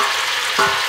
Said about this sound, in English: Now that we have that, we're going to start to drop in the cabbage.